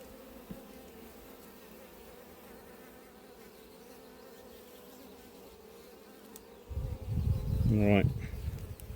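Honeybees buzz at an open apiary hive during a colony inspection, a steady low insect hum that swells louder and closer toward the end.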